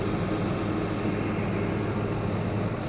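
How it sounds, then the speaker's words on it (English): Wheel loader fitted with a snow pusher idling close by, a steady low diesel rumble with a faint harmonic hum, continuous and even for the whole stretch, no voices. "the machine's running. Sorry for the noise,"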